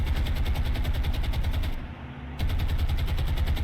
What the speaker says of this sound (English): Small arms opening up.